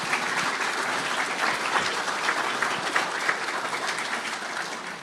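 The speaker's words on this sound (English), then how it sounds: "let's give these gentlemen a round of applause for this presentation" An audience applauds after a panel presentation at a conference, with steady, dense clapping that holds at an even level for the whole stretch, heard from within the room and without talk.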